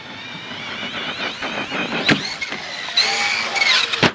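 An Arrma Fireteam RC car is bashed outdoors, with its whining electric motor revving and dropping and sharp thuds from a jump, a bounce and a landing, all close and fairly loud.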